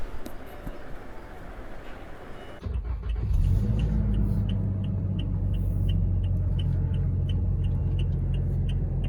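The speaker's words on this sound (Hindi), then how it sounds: "Let me just start the car." A 2021 Toyota Innova Crysta petrol facelift starts up, quiet cabin hiss giving way to a sudden engine catch and a steady low idle rumble heard from inside the car, with no talk.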